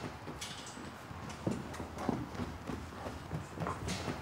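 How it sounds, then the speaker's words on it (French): Faint hoofbeats of an unbroken horse being worked in circles thud at an irregular pace in a reverberant indoor arena, with low background noise and occasional soft thumps. "Le cheval que Carl fait tourner n'a jamais été monté"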